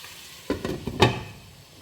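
Palak and potato sabzi being mixed in a pan, a few close scraping stir strokes over a quiet sizzle after a silent start, then fading back to a soft simmer.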